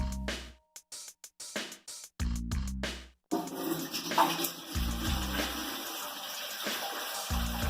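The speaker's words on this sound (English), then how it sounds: "pour in 2 gallons of apple juice" Two gallons of apple juice poured into a kettle on a stove while brewing hard cider, a steady liquid gush and splash running for several seconds after a few short clatters and pauses at the start.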